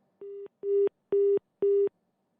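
A telephone line disconnected tone sounds as four evenly spaced, steady electronic beeps with short silent gaps between them, clear and close against a quiet background, with no voices.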